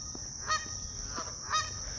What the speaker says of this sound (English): Looks like some geese have something to say.